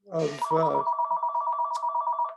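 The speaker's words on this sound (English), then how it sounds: "I'm sorry for my phone here." A telephone rings during a neighborhood Q&A meeting in Somerville, with an electronic warbling ringtone repeating in rapid pulses right after a brief bit of speech.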